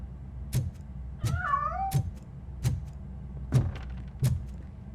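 A cat meows in the video game RoboCop: Rogue City, a series of short, clear mews at a steady pace with one longer, wavering cry among them, over a low steady hum.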